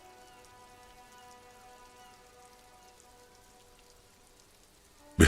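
Rain falling on the industrial harbour in the video game Disco Elysium, a steady soft patter with faint tonal ambience over it, and a sudden loud burst right at the end.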